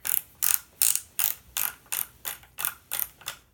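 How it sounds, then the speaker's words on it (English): A flash hider being threaded onto the barrel of an H&K XM8 rifle gives a close series of rhythmic metallic ratcheting rasps, about nine evenly paced strokes with brief gaps between them. "We're going to thread on the flash hider."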